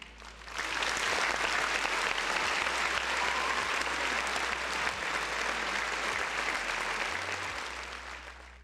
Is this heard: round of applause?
yes